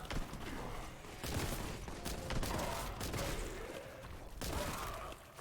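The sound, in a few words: bolt gun firing in Warhammer 40k video game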